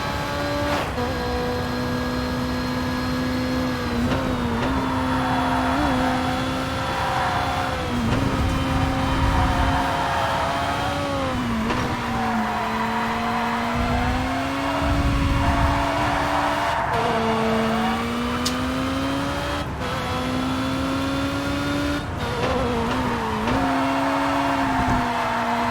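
A DTM race car in TOCA Race Driver 3 holds a loud, steady engine whine at speed, the pitch rising through the gears, with brief dips and climbs at each shift, and no talk.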